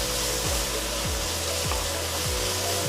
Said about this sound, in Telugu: కొత్తిమీర పేస్ట్ కూడా వేగిందండి